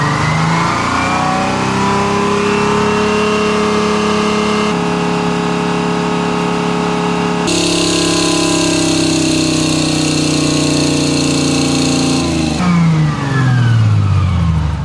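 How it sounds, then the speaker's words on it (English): A supercharged military vehicle's engine starts and runs loud and close, its steady harmonic drone rising in pitch as it revs, with a sharp brightening of supercharger whine midway and a drop back near the end. "now I'm going to start the vehicle. You can hear that supercharger going."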